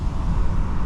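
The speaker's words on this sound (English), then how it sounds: "let me open the window real quick so you guys can hear how windy it is" Steady broadband roar of wind rushing through an open window of a moving 2024 VW Jetta, loud and continuous, with no voices over it.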